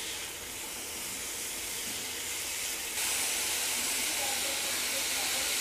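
Chicken and vegetables cooking in a pan over medium heat, giving a steady, fairly loud broadband sizzle and hiss that continues without a break and grows slightly louder partway through, with no voices.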